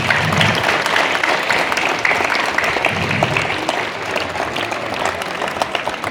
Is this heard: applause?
yes